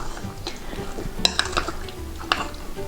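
A borax and water mixture is stirred quickly into glitter slime in a bowl, with rapid scraping and clinking of a utensil against the bowl and a few sharp clacks, no talking.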